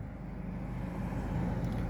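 A car passes at a distance, a faint low rumble that slowly builds over a couple of seconds in an otherwise quiet city street.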